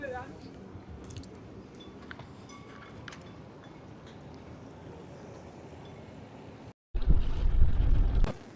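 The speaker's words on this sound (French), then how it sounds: "Avec le vent de travers évidemment" Outdoors with the family, a crosswind buffets the microphone in a steady low rumble that breaks off briefly and then returns as a louder, harder gust near the end.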